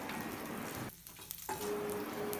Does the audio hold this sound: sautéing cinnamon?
yes